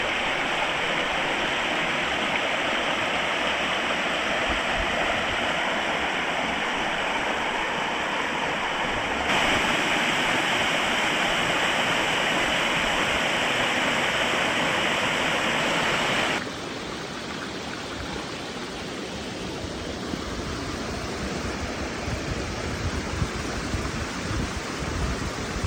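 Water rushes continuously over cascades beside the Appalachian Trail, a loud, steady broadband roar that holds unbroken from start to finish with no voices.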